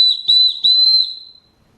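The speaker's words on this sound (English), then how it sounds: "the whistle itself, it sounds pretty good" A small emergency survival whistle on a paracord bracelet gives three loud, shrill blasts close up, the last held about a second before cutting off into silence.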